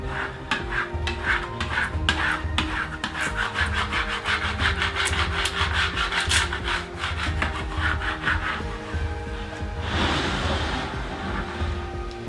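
A tool scrapes vinyl transfer down onto a wooden growth chart ruler in rapid, close, rhythmic rubbing strokes that run the whole time, ending with a longer, smoother pass.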